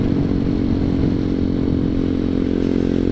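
A ZS 190cc engine in a Honda Grom clone motorcycle runs during a ride, a loud steady low engine drone with constant rumble and no speech.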